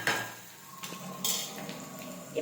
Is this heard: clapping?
no